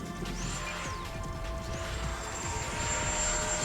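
Small RC jet plane at a radio-control jet gathering in Central Florida, a rising turbine whine passing overhead against steady outdoor background noise, moderately loud and continuous with no talk.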